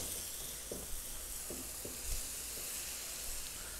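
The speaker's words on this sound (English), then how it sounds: "So now he's going to saute the kimchi also along with the onions, garlics" Kimchi sautéing in a pan with onions, garlic and pork gives a steady, fairly quiet sizzle, with a few soft stirring scrapes and taps breaking through now and then.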